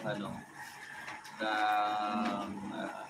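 LRT-1 Gen 2 light-rail train on the Cavite Extension rolling past nearby, a steady rumbling roar with whining tonal hum that swells midway and lingers, with someone talking over it.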